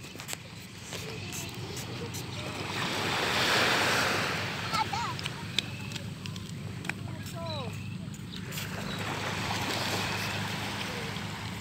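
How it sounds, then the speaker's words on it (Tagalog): Sea waves wash steadily onto Sabang beach, a continuous broadband surf roar that swells and eases with some wind noise, while people talk nearby. "Yan, dagat."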